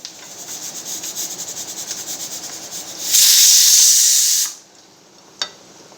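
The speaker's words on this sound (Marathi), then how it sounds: "चांगली शेंगदाणे भाजून घ्यायचे" Peanuts dry-roasting in a pan are stirred with a steady rhythmic scraping, then a loud, broad hiss surges for about a second and a half before stopping abruptly, followed by quiet and one small knock.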